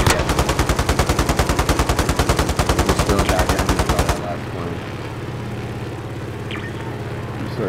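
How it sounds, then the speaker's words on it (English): Anti-aircraft gunfire in Call of Duty: Warzone, a loud rapid rhythmic stream of heavy shots pounding for about four seconds, then cutting off to quieter background rumble. "AA fire looks like something's shooting at something big shooting at you."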